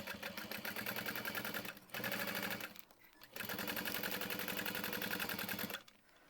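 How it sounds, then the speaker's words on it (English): Sewing machine stitching across the bottom of a handbag, running in three long continuous bursts separated by brief pauses, close and steady. "And now I'm going to sew across the bottom first"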